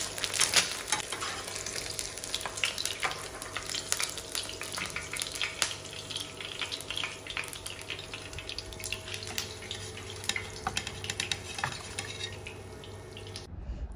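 Eggs frying in a pan, one half fry and one with chili, giving a steady crackling sizzle with frequent sharp pops and spatters, close and continuous for the whole stretch.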